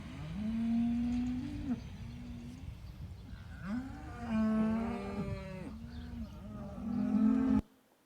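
Dairy cows moo repeatedly in a barn, several long, low bellowing calls overlapping one another with loud nearby lows, one rising call near the end, and no talk.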